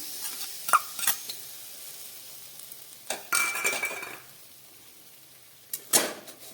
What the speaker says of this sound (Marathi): आणि आता हे सतत असं गूळ मेल्ट होईपर्यंत हलवत राहायचं आहे.